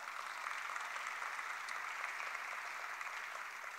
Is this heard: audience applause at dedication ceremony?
yes